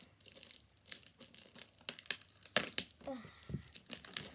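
A Pokémon card pack is torn open close up, with a series of sharp crinkling and ripping bursts of foil wrapper over a few seconds, while someone talks softly around them.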